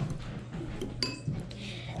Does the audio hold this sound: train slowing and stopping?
no